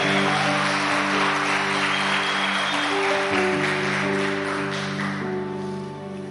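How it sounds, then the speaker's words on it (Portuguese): A church congregation applauds in praise at a worship service, a steady, dense wash of clapping that holds loud for several seconds with music sustained underneath, then eases slightly toward the end. "Pode aplaudir o Senhor com alegria."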